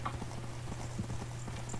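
Horse hooves clip-clopping in a Minecraft horse race minigame, a steady rapid run of light hoofbeats over a constant low hum with no talking.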